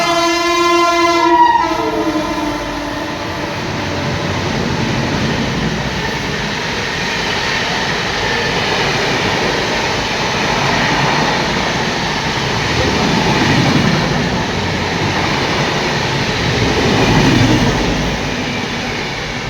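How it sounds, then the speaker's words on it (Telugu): Tejas Express train passing through a railway station, opening with a loud horn blast, then a sustained roar of wheels and carriages rushing by close, with rhythmic clatter swelling and fading across the pass. "తుఫాను 90 ఏం రైలుది? తేజస్ ఏం రైలుది? 80 స్పీడ్ పోతుంది."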